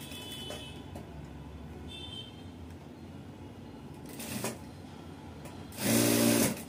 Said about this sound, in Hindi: तो 1/4 इंच का यहाँ पे जो है सीधी सिलाई लगा देनी है।